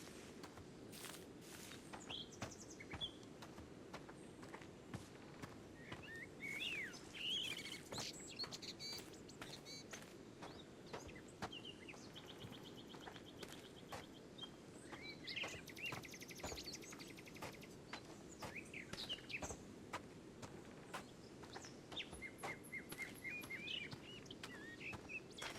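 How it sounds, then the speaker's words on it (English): Forest ambience in a video game: scattered bird chirps and calls over a soft breeze, with a steady run of footsteps crunching along a path throughout. "The sound of the birds, the breeze."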